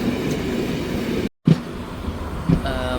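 Passenger train on the railway line to Jaffna near Omanthai and Thandikulam station, Vavuniya, rumbling steadily close by with clattering wheels, a brief dropout, then a few heavier knocks.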